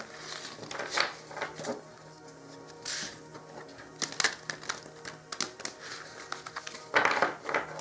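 A deck of tarot cards being shuffled by hand during a reading, giving repeated crisp papery riffles and taps in irregular bursts, close and moderately quiet, with no talking.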